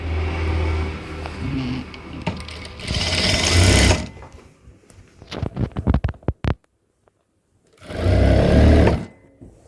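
A sewing machine stitches along the side of a piece of fabric in two loud, close bursts, separated by softer clicks and handling noises, then a short spell of near silence.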